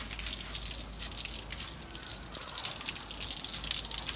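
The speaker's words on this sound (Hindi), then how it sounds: "ये छत पे भी मैं पानी डाल के पूरी छत जो है ठंडी कर दूंगा" Water pours and splashes steadily across a rooftop as it is wetted down in the midday heat, a dense, continuous close gush with scattered drips and no pauses.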